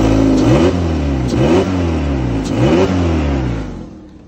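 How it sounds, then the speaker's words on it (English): A Kia car engine revving up and down several times, loud and close, with a rough note from a blowing, leaky exhaust before it settles to a quieter idle. "as you can hear, the exhaust is blowing"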